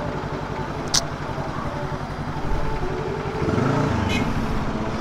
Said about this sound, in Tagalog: Grabe to, grabing traffic to.